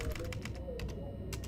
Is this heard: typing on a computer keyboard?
yes